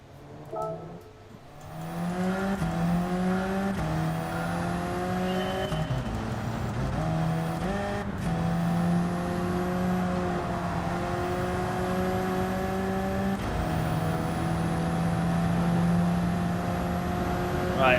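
Alfa Romeo 4C engine in a Gran Turismo 7 race, a steady loud drone that climbs in pitch through each gear, dipping and rising again with brief shift breaks, heard alone without talk.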